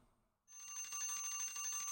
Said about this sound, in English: Oh, timer.